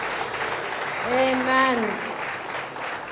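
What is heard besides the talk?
congregation applauding in church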